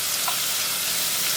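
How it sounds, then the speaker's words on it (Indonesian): Onions fry in a pan with a steady, dense hiss of sizzling oil, close and continuous, with no pauses and no voices. "dia bawang yang digoreng"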